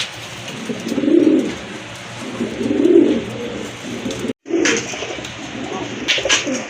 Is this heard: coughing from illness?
no